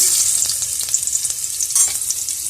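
Fennel seeds, a single bay leaf and ginger frying in hot ghee and oil, a bright, hissing sizzle with scattered sharp pops and stirring clicks, close and loud, with no talk.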